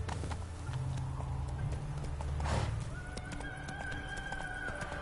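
Roach, a horse in The Witcher 3, gallops with rapid rhythmic hoof clip-clops throughout, a whinny rising midway, over game ambience and a sustained tone.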